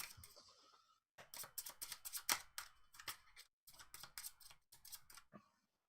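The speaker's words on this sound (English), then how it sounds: "and then shuffle the decks" Card decks from the Resident Evil 2 board game are shuffled by hand in quick bursts of riffling snaps, close and crisp, with a short pause between two rounds of shuffling.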